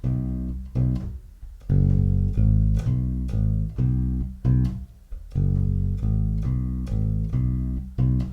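Electric bass guitar plays a major pentatonic groove rooted on C, moving down to G, up through A and back to C; a steady run of clear, close plucked notes, played alone without talk.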